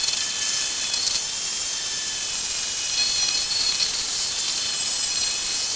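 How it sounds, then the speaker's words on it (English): An angle grinder cuts off spot welds on the body of a 1958 Plymouth under restoration, giving a loud, continuous, close high-pitched hiss and whine that holds steady throughout without pauses or voices. "I'm going to take the grinder and get those spot welds off there"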